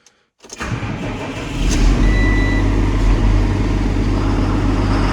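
An MTZ tractor engine cranks and catches after a brief silence, then settles into a loud, steady diesel running rumble close by, with no talking over it.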